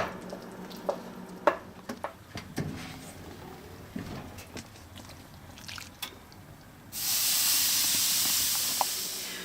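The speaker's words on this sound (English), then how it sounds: "We're grilling those steaks for 3 minutes aside" Steaks grilling on low heat for a baked potato soup, with soft intermittent sizzles, drips and clicks up close, then a loud, sustained hissing spray of sizzling and steam toward the end.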